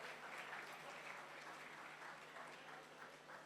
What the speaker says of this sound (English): Please, can you give the powerful women on stage a round of applause?